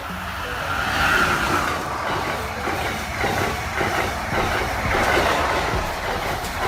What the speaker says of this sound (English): Metro train.